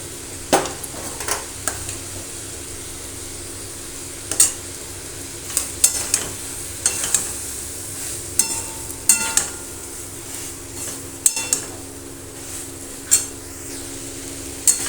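Soybean curry sautés in a pan under a low steady sizzle, punctuated by repeated sharp clinks and scrapes of a metal spoon stirring against the pan, close and irregular.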